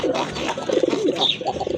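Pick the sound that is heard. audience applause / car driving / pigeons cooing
pigeons cooing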